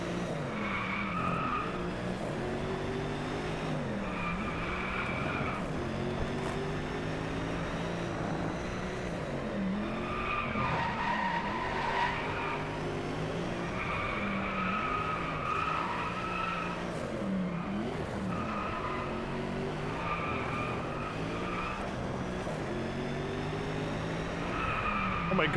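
Race car in the Driveclub video game skids and crashes, with a loud, continuous engine whine rising and falling in repeated sweeps and tire screeches layered over it throughout.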